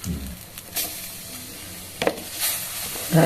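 Bottle gourd pieces dropped into ghee with Gobindobhog rice, sizzling softly with intermittent stirring scrapes and a couple of sharper clatters, close and without talk.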